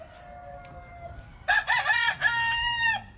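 A rooster crows on a farm, a loud, close, wavering cock-a-doodle-doo in the second half, preceded by quieter clucking and background sounds.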